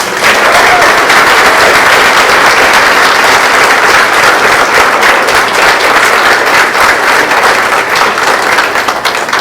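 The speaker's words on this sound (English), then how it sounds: "Round of applause." Sustained, loud applause fills a school district board meeting room, a steady dense crowd of clapping with no break throughout.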